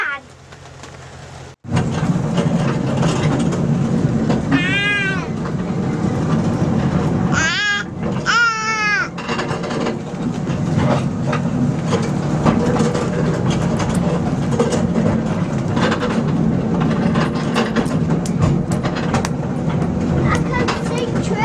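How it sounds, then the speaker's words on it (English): A train rumbles steadily nearby with a continuous rolling noise, and people talk over it, including a voice. "I can see train. It's going backwards because it's at the back."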